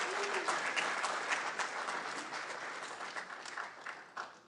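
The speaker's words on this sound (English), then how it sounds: "A big round of applause." An audience at a live democracy event for doctors applauds a guest speaker, a dense, steady wash of many hands clapping at moderate distance, fading slightly toward the end.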